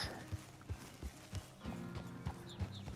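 Horse hooves from a video game clip-clop in a steady, even rhythm, fairly close, each step a distinct hollow knock over a quiet background.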